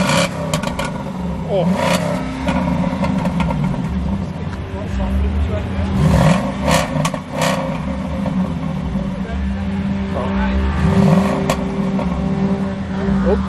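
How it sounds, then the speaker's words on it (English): A car engine revs hard during a burnout at an outdoor car meet, a sustained roar with surging peaks, while a person briefly exclaims over it. "Oh, someone's burning out again."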